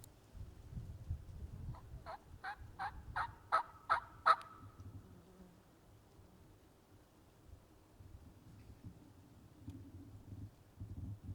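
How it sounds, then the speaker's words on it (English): A wild turkey gobbler in a pasture sounds off once in a quick rattling series of gobbles, faint and distant. Soft wind noise follows. "we hiked into a pasture and struck up a gobbler that was a long distance away"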